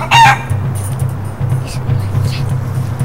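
A chicken gives a short, bright cluck right at the start, then only a steady low droning rumble continues underneath.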